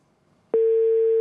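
A steady telephone line tone sounds after a call drops, starting abruptly after a brief quiet moment and holding loud and unbroken to the end, with no voices.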